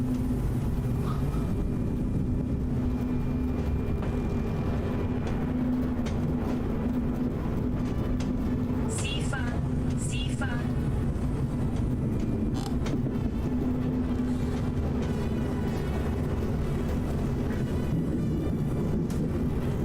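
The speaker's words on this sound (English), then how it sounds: "I am driving a German BR-189 with a freight train" A German BR-189 electric locomotive hauling a freight train on the Dresden–Leipzig route in Train Simulator Classic, a steady loud rumble and rolling drone that runs throughout with brief higher squeals over it, and no voices.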